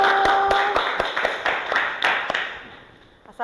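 A handful of scattered, sharp claps rings out in a classroom for a group of teacher-training students about to present, thinning out and fading over a few seconds.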